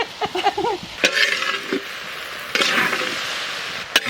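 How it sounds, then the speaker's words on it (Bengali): Peas and potatoes with spices sautéing in a pan for Bengali ghugni, a steady sizzle with scraping stir strokes; a voice talks briefly at the start. "মটর আর আলু খুব সুন্দর কষানো গেছে"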